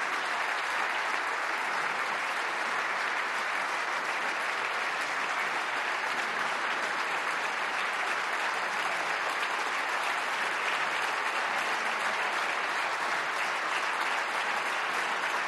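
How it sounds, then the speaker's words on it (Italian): Long, sustained applause from a standing Italian Parliament chamber, thick continuous clapping from many people that holds at an even, loud level throughout. "Lunghissimo applauso"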